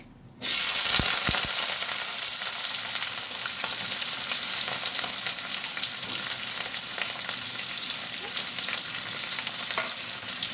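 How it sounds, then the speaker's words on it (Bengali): Onion dropped into hot oil with a sudden loud burst of sizzling, then a steady, dense frying hiss that continues close and unbroken. "তেল গরম হয়ে গেছে এখানে আমি কিচ্ছু ফোড়ন দেবো না দিয়ে দেবো সোজা পেঁয়াজ"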